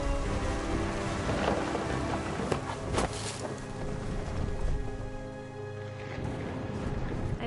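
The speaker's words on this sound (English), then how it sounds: "The thunder sounded much too close and full of angry power." Steady rain with rolling thunder in the video game What Remains of Edith Finch, a close, heavy rumble building under the continuous downpour, no talking.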